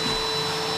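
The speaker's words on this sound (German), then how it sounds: "Guck mal, ob ich das einsaugen kann schnell." A vacuum cleaner sucks water up off a dirty floor, giving a steady, loud, close motor whine with a constant airy roar and no break.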